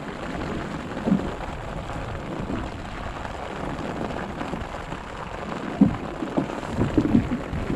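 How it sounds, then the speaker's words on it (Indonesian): Heavy rain pours down at sea during fishing in rough weather, a dense, hissing wash, with a few louder spatters and gusts standing out near the end. "Hujan kuat, guys."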